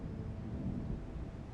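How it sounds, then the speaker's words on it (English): Low rumble of thunder from an approaching storm, a brief, muffled roll heard at a distance with a soft windy wash. "Sounds like there's a storm coming."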